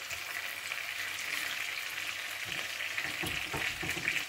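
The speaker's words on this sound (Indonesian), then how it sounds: "Jadi kita biarkan digoreng dengan butter ini, kulit menghadap bawah itu 3 menit." Salmon fillet seasoned with salt and pepper fries skin-side down in butter in a pan, giving a steady, close sizzle and crackle with a few louder pops, and no one speaks over it.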